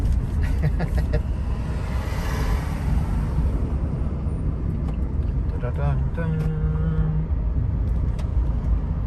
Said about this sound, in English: I think this is going to be the longest taxi ride I've ever caught